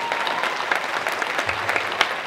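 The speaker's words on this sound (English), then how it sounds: "Give them a round of applause" Steady applause from a comic con panel audience, a dense wash of many hands clapping at moderate loudness with a few sharper claps standing out, continuing unbroken.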